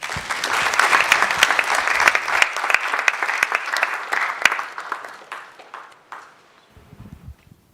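Audience applause at the NSMQ 2025 national championship launch, a dense burst of clapping that swells early and then fades, trailing off into a few scattered claps near the end.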